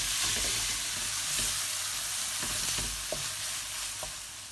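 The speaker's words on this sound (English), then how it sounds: "And mix it well." Baingan bharta, a smoky spiced eggplant mash, is stirred in a sizzling pan, loud continuous frying hiss broken by several soft scraping spoon strokes.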